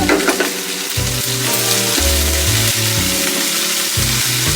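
Onion, green chillies and curry leaves sizzle loudly in hot oil, a dense close crackling hiss that stays strong throughout, with a steady low hum beneath it.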